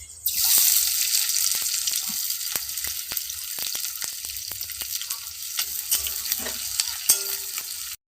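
Onions frying in a pan, a steady close sizzle with scattered sharp pops and crackles running throughout, no voices.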